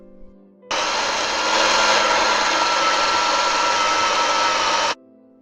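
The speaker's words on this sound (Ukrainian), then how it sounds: "фарш у нас вже готовий, ми щойно його перемололи" An electric meat grinder minces chicken, onion and milk-soaked bread with a loud, steady motor whine and grinding roar that starts abruptly, runs about four seconds and stops.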